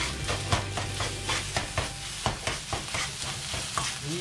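Egg fried rice stirred and tossed in a hot pan with a steady sizzle of frying underneath, regular scraping and clattering strokes of the spatula repeating roughly every half second, close and loud.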